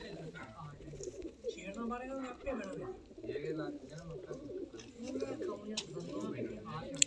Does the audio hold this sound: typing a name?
no